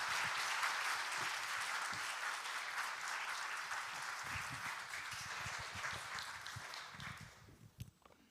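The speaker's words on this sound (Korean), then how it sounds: "자, 이제 우리 윤 목사님 나오실 때 큰 박수로 메십시다." Congregation in a church applauds during an evening worship service of a united women's mission society as the pastor comes forward; sustained dense clapping that thins out near the end, with scattered footsteps and a few claps in the last seconds.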